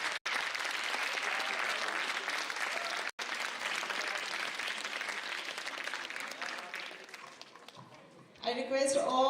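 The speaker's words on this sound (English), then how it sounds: "Round of applause for Himanshu Ranawat." Sustained applause from a large crowd, steady and loud for several seconds before fading as people settle.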